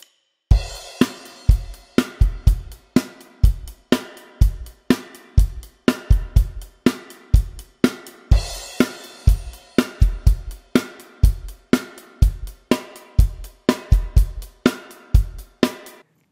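Rock drum kit playing a two-bar intro beat, punchy kick and snare hits with cymbals in a steady driving pattern, loud and close with no talking.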